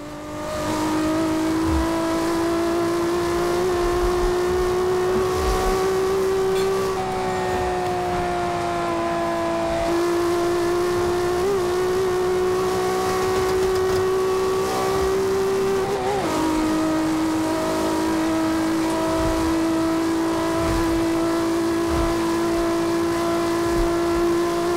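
A 1500 HP Toyota Supra MK4 in Forza Horizon 2 holds full throttle, its engine a loud, steady, high-revving drone with brief pitch dips at gear shifts around seven, ten and sixteen seconds.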